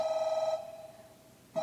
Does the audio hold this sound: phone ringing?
yes